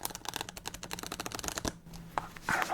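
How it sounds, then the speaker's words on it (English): A thin, cheap deck of playing cards is shuffled close up, giving a rapid run of crisp riffling flicks followed by a short pause and a few softer card slaps and bends near the end. "the thin, cheap decks feel kind of good to shuffle"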